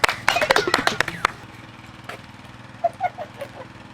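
An audience claps to welcome two villagers joining a party in a Maithili village comedy. A close, dense burst of hand claps fades out after about a second, leaving a steady low hum and scattered faint sounds.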